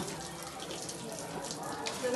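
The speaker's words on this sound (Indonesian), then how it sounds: "Setelah itu siram menggunakan air sabun." Soapy water poured to rinse a body during a funeral washing rite, a steady running splash that flows continuously with faint faucet-like hiss and low background murmur.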